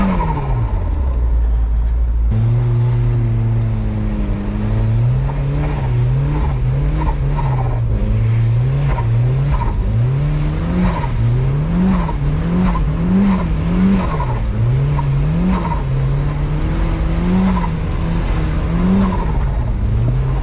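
A turbocharged Mazda Miata, top down, driven in snow: a loud, close engine drone rising and falling as it revs through gears, with whistling turbo spool and whooshing blow-off between shifts.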